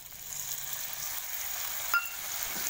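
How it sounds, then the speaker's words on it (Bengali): Water goes into frying masala for an egg omelette curry, giving a soft, steady sizzle with a single brief clink near the end, fairly faint and with no voices. "মশলা কষানো হয়ে গেছে, একটু জল দিয়ে দিচ্ছি"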